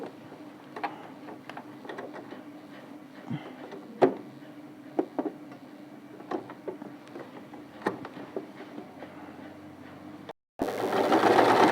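A sewing machine stitches a garment neckline with a steady, close mechanical rhythm, broken by small clicks. It stops near the end, and a louder noise follows.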